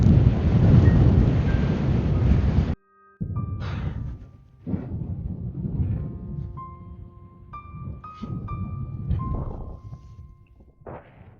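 Strong wind buffets a mountainside at Pikey Peak during a bike ride and camping trip, roaring loud and close against the microphone for the first few seconds, then breaking into gustier, uneven bursts with faint tonal whistles.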